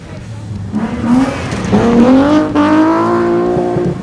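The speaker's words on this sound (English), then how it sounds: "The Beamer's a fun car to drive" A BMW 325i rally car revs hard on a stage, its engine note climbing through gear changes with a rising, raspy tone that grows loud and close, then holds near full volume.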